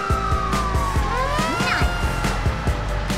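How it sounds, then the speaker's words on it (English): A toy fire truck siren wails loudly and continuously, its pitch sweeping up and down over a steady electronic pulsing, alone without talk. "Fire truck."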